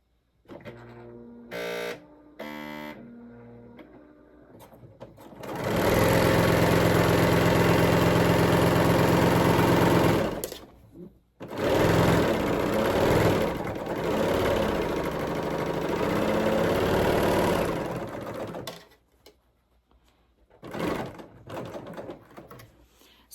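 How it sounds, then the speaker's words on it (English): Serger sewing machine stitching a flat lock seam through two pieces of fabric: a loud, steady whirring motor run of several seconds, a brief pause, then a second sustained burst, with softer mechanical clicks before and after. "I set up this machine for this flat lock stitch, and then I'm going to run it through the machine."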